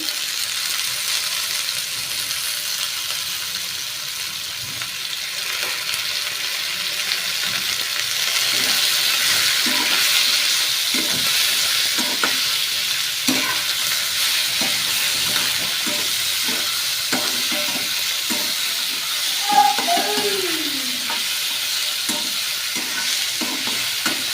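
Mint leaves fry in a pan for chutney, giving a long, even hiss of sizzling oil with repeated soft scraping and stirring strokes, and a brief squeak near the end.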